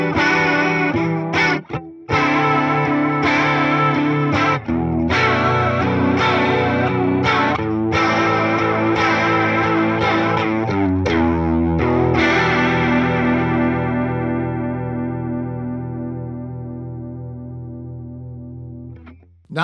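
Electric guitar run through a Fender Tone Master Pro JC Vibrato effect in mono, playing a sequence of sustained, warbling chords with brief gaps before a long final chord rings out and slowly fades, no talking.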